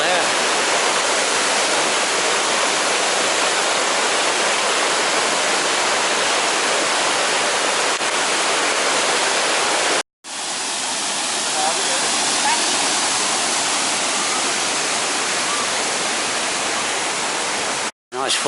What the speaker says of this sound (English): if you like the sound of running water and rapids and waterfalls